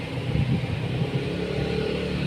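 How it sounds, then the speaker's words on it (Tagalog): Rear-mounted engine running with a low, uneven rumble and a slight surge early on, steady and fairly close, without speech. "Ang makina yan sa likod."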